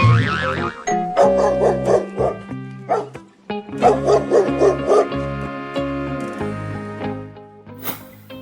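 Cartoonish dog barking over a bright music track, several short yips and bow-wows in uneven bursts, near and loud, ending with a chime.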